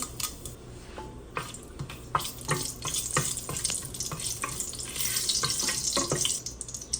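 Whole spices for chicken biryani, including star anise, cinnamon, cardamom, cloves and kalpasi, crackle in hot oil. The sizzle is joined by sharp clicks and taps of a utensil against the pan, and no one speaks.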